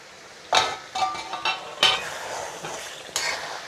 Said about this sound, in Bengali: আমি এখন ঢাকনা দিয়ে ঢেকে রাখবো।